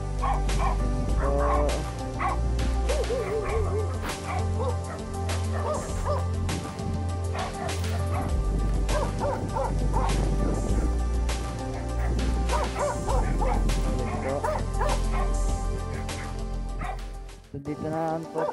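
Dog barks and yips come through amid a loud, busy mix of low rumble and ongoing sound outdoors by houses and a roadside garden, with the barking repeated across the stretch at close to moderate distance.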